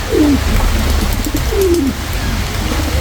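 Domestic pigeon cooing in two soft, low rolling calls about a second apart, close by, over a steady low background hum.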